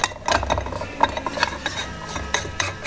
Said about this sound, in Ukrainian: Чекайте, я той болт викручу, щоб він нам не мусолив очі.